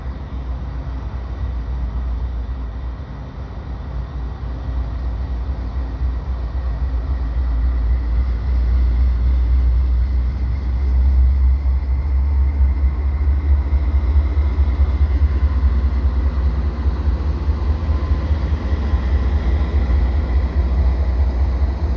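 A CN mixed freight train hauled by three locomotives rolls past, a heavy continuous low rumble that swells and holds steady for the whole stretch.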